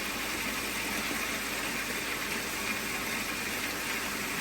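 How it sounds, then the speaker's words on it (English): Pond pump for a koi pond ticking over, a steady continuous low hum with a faint broadband wash of running water, even and unchanging throughout. "So the pump is basically just ticking over."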